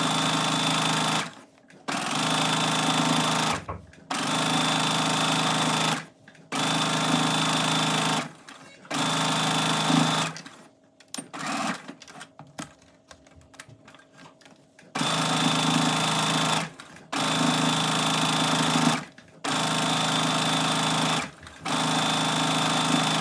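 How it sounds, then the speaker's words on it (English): A sewing machine stitches a knit waistband onto jeans, running loud and close in steady whirring bursts of a couple of seconds, separated by brief pauses and a longer stretch of fabric handling, with no voice. "So as I'm sewing, I'm gonna stretch the waistband just enough that it's laying flat"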